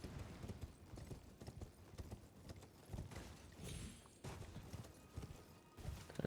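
Horse hooves clip-clop steadily on the ground in the video game Elden Ring, a brisk repeating rhythm of hoofbeats at close range with game ambience behind.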